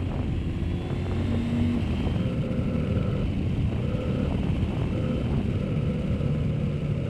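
A motorcycle engine drones steadily and loudly while climbing the Col de la Croix de Fer mountain pass in Savoie, with a constant wind-buffeted rumble and slight shifts in engine pitch throughout.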